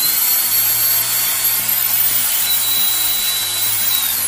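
A small COLBOR electric air blower runs at maximum power, giving a steady, loud whoosh of rushing air with a low motor hum underneath, unbroken throughout.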